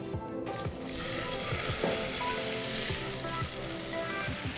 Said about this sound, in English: So I'm going to be adding now the butter and the oil to this.